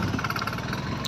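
Motorbike engine running steadily while riding along an unpaved dirt road through hilly country on the way to Rohtas Garh Fort, a continuous mid-pitched drone with no voices.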